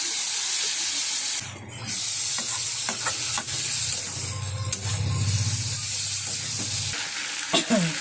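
Spice-rinsing water poured into hot frying masala in a pan sets off a loud bursting hiss and rumbling boil that lasts several seconds, with stirring scrapes and sizzle around it, up close.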